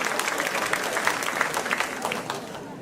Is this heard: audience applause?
yes